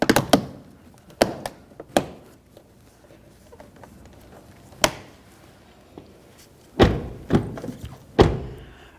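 Exterior door handle being fitted into a 2003-2007 Honda Accord front door, giving several sharp knocks and thunks scattered across the stretch, with a cluster of firmer clicks and thuds near the end, close and alone.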